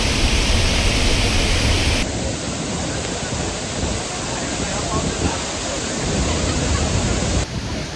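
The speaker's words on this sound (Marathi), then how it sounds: "एवढा मोठा धबधबा आहे ना, बापरे." Thoseghar waterfall in monsoon flood roaring loudly and continuously, a dense broadband wash filling the whole clip with a brief shift in tone midway.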